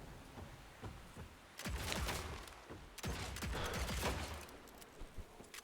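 Rapid bursts of gunfire crackle in quick volleys, like automatic weapons firing in the video game Evil West, fairly steady and moderately loud throughout.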